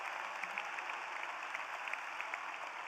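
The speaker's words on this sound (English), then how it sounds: "one more round of applause for all those people who made this wonderful success happen" Distant, reverberant applause rolls through a large venue at an engineering college commencement ceremony, a steady crowd wash with scattered individual claps standing out, fairly faint overall.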